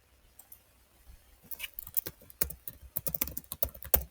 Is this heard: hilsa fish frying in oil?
no